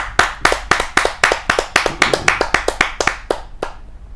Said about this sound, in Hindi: जोरदार ताली के साथ हम उनका स्वागत करते हैं।